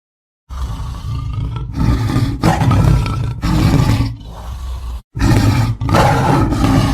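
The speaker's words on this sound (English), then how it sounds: "The Sumatran tiger, also known as Panthera tigris sumatri" A Sumatran tiger roars loudly and close by in a series of long, powerful roars separated by short pauses, with no other sound.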